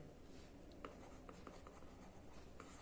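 Marker or chalk writing on a classroom board during a maths lesson, a few faint scratchy strokes and taps spread over a few seconds against a steady room hiss.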